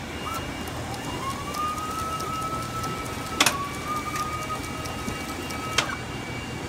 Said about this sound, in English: Now, the buttons that are flashing, you can hit either one, and it will feed the strap into the machine.